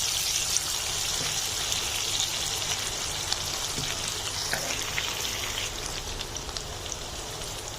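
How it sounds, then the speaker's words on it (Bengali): Green chilies and onions fry together in a pan, browning in hot oil with a dense, even sizzle and crackle that holds steady throughout, close by, with no voices. "এবার আমি কাঁচামরিচ এবং পেঁয়াজ একসাথে ব্রাউন কালার করে ভেজে নেব।"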